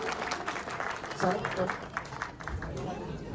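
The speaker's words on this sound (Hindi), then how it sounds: "एक बार जोरदार तालियां इनके लिए।" Audience clapping for two child singers, Vihaan and Sara, after a devotional bhajan at a Shyam Baba birthday celebration in Canada; steady, moderately loud clapping mixed with voices throughout.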